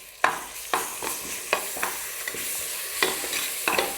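A ground paste of ginger, garlic, cinnamon, cloves and cardamom sizzles in a pan for vegetable biryani, with a spoon scraping and stirring in regular, sharp strokes over a steady, soft frying hiss.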